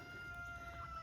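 Geese on a homestead let out a drawn-out, tonal honking call, up close and steady for about a second over low background rumble.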